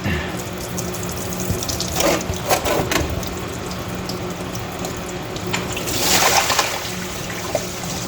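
Water and oil trickle and splash steadily from a Ford 8N tractor into a container nearby, with a few louder gurgling surges along the way.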